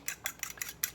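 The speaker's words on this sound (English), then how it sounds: "Just make sure you get your eggs all beat real good" A utensil beats eggs in a bowl for a breakfast casserole, five crisp, evenly spaced clinks against the dish in quick rhythm, close and clear with no talking.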